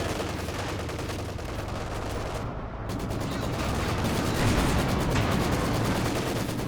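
Panzerwerfer rocket artillery barrage in the Company of Heroes 2 video game, a thick continuous roar of rapid blasts and crackling impacts, loud and unbroken, briefly thinning before swelling again.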